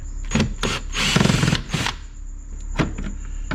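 A power driver whirs in short close bursts while removing two screws from under a car's glove box near the ECU, several quick spins with brief pauses and a faint squeal between them.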